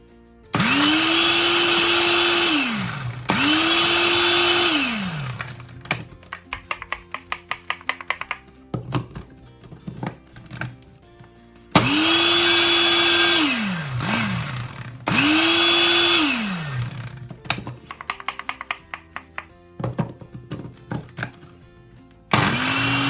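Blender whirring in repeated loud bursts as wild garlic (ramson) pesto with Parmesan is blended, each burst rising and falling in pitch, interspersed with clattering and knocking between runs.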